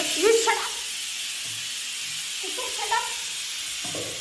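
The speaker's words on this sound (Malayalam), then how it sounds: "കുക്കർ ഇപ്പോൾ അലമ്പാക്കും" Steam escapes a pressure cooker in a home kitchen with a continuous, fairly loud hiss that runs throughout, while voices talk briefly over it.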